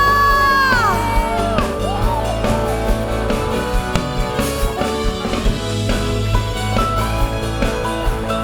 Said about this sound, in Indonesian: Yang setuju dengan saya sorakan haleluya.